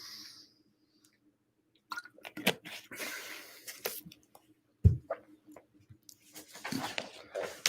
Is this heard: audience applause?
no